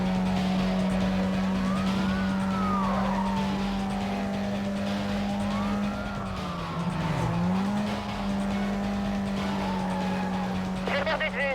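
Ford Focus driving in Need for Speed Most Wanted (2005 Redux) during a police chase: a steady engine drone with rising and falling revs, tire squeals and siren-like sweeps, loud and continuous throughout.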